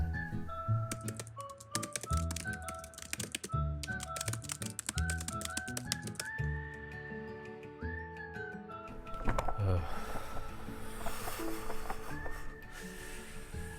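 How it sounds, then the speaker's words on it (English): Computer keyboard typing of a novel's text, bursts of rapid key clicks and pauses, close and clear, with whistled tune and background music running alongside. "Typing Out The Great Gatsby"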